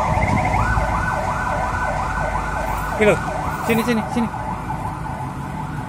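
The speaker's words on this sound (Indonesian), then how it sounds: "Oh ambulan." A wailing siren sweeps up and down repeatedly, fairly close, with traffic rumble beneath and brief voices speaking over it.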